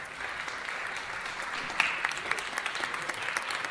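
A crowd at a fashion and textile event in Riga applauds warmly, a dense and steady patter of many hands clapping with a few sharper claps standing out.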